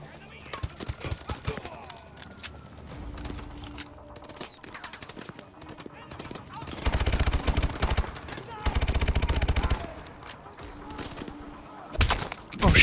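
Call of Duty: Advanced Warfare gunfire comes in repeated bursts of rapid automatic shots and single cracks, some close and loud, some fainter, with a game character's voice heard between them.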